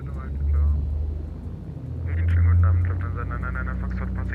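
Beech Bonanza G36 propeller engine in the X-Plane 12 flight simulator throttling up: a steady low drone that dips briefly, then swells louder and stays up, with voices over it.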